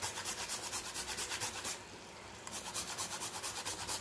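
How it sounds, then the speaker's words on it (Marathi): Nutmeg rasped over a grater into a coconut sweet mixture, a close rhythmic scraping of quick regular strokes with a brief pause midway before the strokes resume. "आता यामध्ये थोडंसं जायफळ हे किसून घालायचं आहे।"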